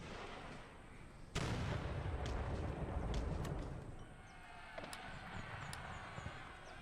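Artillery fire in the Empire Total War game, a heavy booming blast about a second in that leaves a sustained rumbling roar, followed by a few sharper distant cracks and a scattered rattle of gunfire, with no talking.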